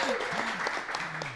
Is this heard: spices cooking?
no